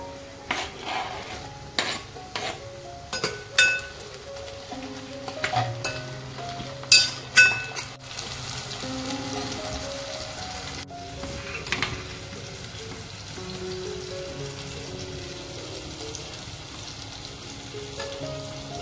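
Onion and tomato frying in a pan for prawn biryani, a steady sizzle beneath repeated clinks and scrapes of a spoon stirring against the metal, with the stirring easing off partway through.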